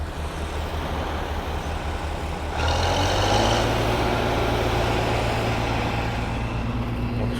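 A combine harvester engine runs close by during silage harvesting, a steady low drone that swells louder and deeper partway through as it revs up, with no talking.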